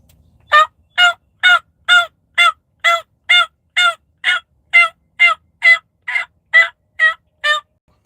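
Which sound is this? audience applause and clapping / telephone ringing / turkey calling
turkey calling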